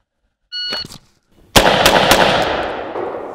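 An MK18 rifle fires outdoors: a short beep, then after a pause a loud sharp report with two more quick shots close behind, ringing off into a long decaying echo.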